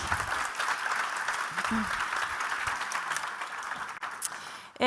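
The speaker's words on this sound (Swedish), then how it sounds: "En varm applåd." Warm audience applause at a Swedish public event, a steady dense wash of clapping at moderate loudness that runs throughout, with a sudden louder noise burst at the very end.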